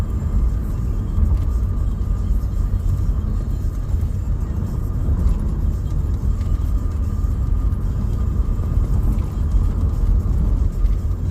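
A car cruising smoothly along an uncongested toll road, with a steady low road-and-engine rumble running continuously throughout, close and fairly loud.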